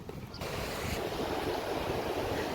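Waves of the sea at Lovers Park in Kuwait wash in as a continuous broad rush, steady and fairly close, with a wind-like hiss and no voices.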